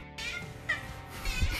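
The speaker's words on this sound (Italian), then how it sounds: "Gatto Denver ci teneva a sottolineare la sua presenza" A house cat meows close by in a short, drawn-out call, with a second rising cry near the end and indoor room noise underneath.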